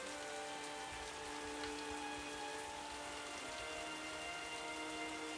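Steady rain falls on a cold night, an even, dense patter with no voices.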